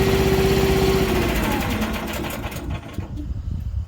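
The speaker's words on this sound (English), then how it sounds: "it's a big splitter. It is loud." A large Axis firewood log splitter's engine runs loudly and steadily up close, a dense rattling drone with a brief tonal whine early on, then slightly rougher chugging toward the end.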